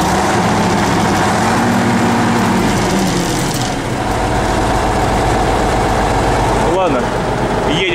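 Heavy T-150K tractor engine idling unevenly, a loud, steady low rumble with slight irregular stumbles, while someone talks over it close by.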